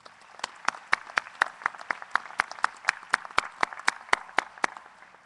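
Audience applause at a USC Upstate graduation ceremony in 2012: sparse, individual claps ring out in a loose, steady patter, fairly close and clear, with no voices over them.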